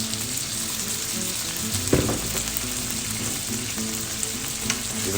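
Pork and its juices are stir-fried in a pan, giving a steady moderate sizzle with one sharp clatter of the pan partway through and light stirring noises.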